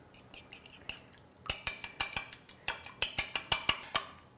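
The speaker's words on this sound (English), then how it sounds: "I'm just gonna sprinkle a little bit of salt and a little bit of black pepper to that and give it a good mix" A whisk or fork clatters rapidly against a bowl as egg whites are mixed with salt and black pepper, with sparse taps at first and then a quick, even run of sharp clinks up close.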